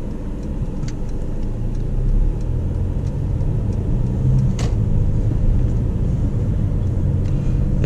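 Mercedes GLC Coupé cruising on an open road, steady low tyre and engine rumble heard from inside the cabin, constant and fairly loud with a brief click partway through.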